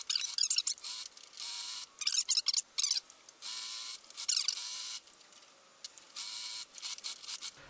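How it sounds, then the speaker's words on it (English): Sewing machine stitching back and forth through fur suit fabric, close rapid mechanical clatter in repeated short bursts separated by brief pauses. "At each side, I go back and forth quite a bit to hold that end of stitching down."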